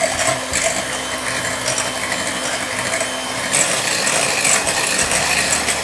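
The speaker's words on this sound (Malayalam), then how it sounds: "അപ്പോൾ ആദ്യം നമുക്ക് മുട്ടയൊന്ന് ബീറ്റ് ചെയ്യാം." Eggs are beaten for wheat cake batter in a continuous whirring, rattling mechanical sound that stays loud and close throughout.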